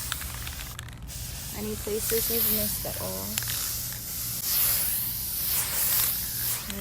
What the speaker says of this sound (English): Give all of them a quick little spray over.